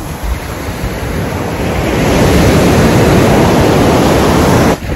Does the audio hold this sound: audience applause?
no